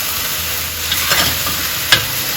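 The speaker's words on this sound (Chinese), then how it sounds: "中间不停的翻炒" Onions, carrots and celery stir-frying in a pot for a lamb noodle soup, a loud continuous sizzle with a few scraping strokes of the spatula and one sharp clank, heard close with no talk.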